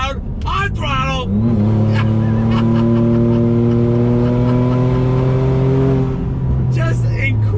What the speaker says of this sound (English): that MagnaFlow exhaust, it's loud. You want to hear how loud? On throttle!